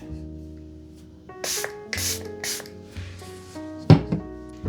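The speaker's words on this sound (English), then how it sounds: "So I'm going to spray my brush." Several short hissing spray bursts onto a makeup brush close by, separated by brief pauses, followed by a couple of soft knocks and rubbing sounds.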